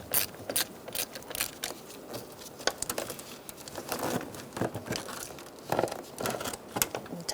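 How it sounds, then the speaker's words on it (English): A 10mm socket ratchet loosens a battery terminal on a 2002-2006 Honda CR-V, giving quick bursts of fine clicking in uneven runs, close and fairly quiet, with light handling rustles between. "Again, using a 10mm socket, we're going to disconnect the positive."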